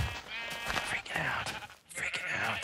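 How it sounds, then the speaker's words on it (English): Sheep bleating in the video game Minecraft, with several wavering bleats heard under excited overlapping talk from players. "Come here, sheep."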